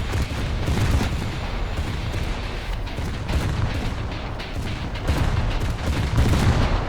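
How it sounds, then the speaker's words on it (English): Ripple fire from an aircraft carrier's battery of 5-inch guns in War Thunder, a dense, continuous barrage of overlapping booms and cracks, loud and sustained with no pauses. "Using ripple fire with all the 5-inch guns."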